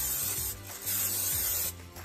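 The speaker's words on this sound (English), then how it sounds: "So now we're gonna go ahead and spray our Oreos." Cooking oil sprayed from a can onto croissant-wrapped Oreos before air frying, heard as two close hissing bursts separated by a short pause, fairly quiet.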